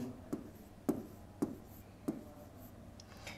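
Writing on a board makes four faint, evenly spaced scratchy strokes in a quiet room, each a short rasp followed by a pause.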